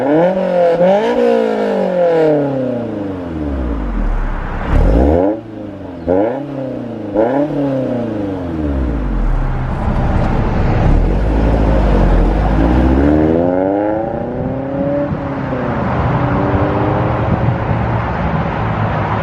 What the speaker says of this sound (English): show you guys the exhaust clip of the UK exhaust mod